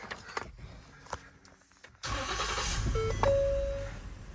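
A 2016 Ford Flex SEL with about 140,000 miles cranks and starts after a few faint interior clicks, then settles into a steady, moderately loud idle with a brief whine partway through.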